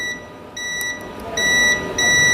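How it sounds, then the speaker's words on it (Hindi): Continuity beeps from a multimeter testing a resistor on a circuit board, repeated steady tones in short bursts with gaps, each lasting about half a second, clear and close over a faint background hiss. "अब ये भी बीप दे रहा है"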